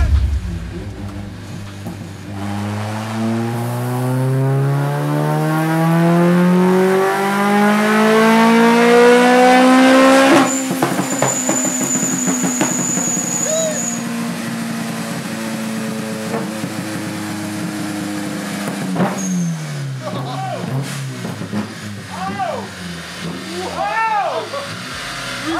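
Performance car on a chassis dyno at a 3Smoke dyno day, engine climbing hard through a long loud pull for about ten seconds, then holding and settling, with people chattering and cheering throughout.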